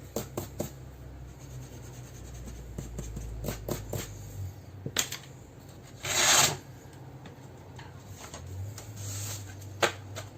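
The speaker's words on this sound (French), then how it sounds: "Il ne nous reste plus qu'à gommer la petite marque de crayon de bois." An eraser scrubs a pencil mark off paper, rasping in a brief burst of close scratchy rubbing, with soft handling scrapes and taps around it.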